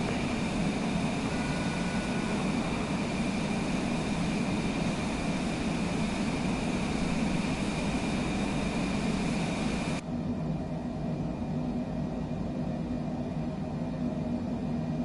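Steady simulated Cessna engine drone in Microsoft Flight Simulator 2024, a constant loud hum with a fixed tonal whine that dulls and thins partway through, with no talk.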